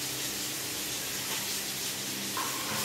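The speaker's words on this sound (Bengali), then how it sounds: "পটল ভাজছে" Sliced pointed gourd fries in a pan in a home kitchen, giving a soft, continuous hiss and sizzle at moderate distance with no talking.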